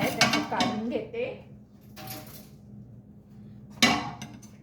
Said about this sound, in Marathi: आता मी हा तवा जरा त्याच्यावर जो पहिला जो डोसा काढला आहे त्याला काढून घेते